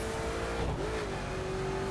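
Koenigsegg Agera R engine in the racing game The Crew, a loud sustained drone whose pitch dips briefly then steadies as the car cruises, with no talk over it.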